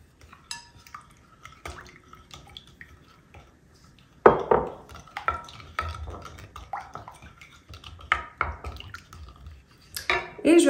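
Melted butter is poured into rising yeast dough for a Ramadan dessert, bringing wet drips and then sticky stirring taps and clinks against a bowl, sporadic and close, growing louder and busier in the second half.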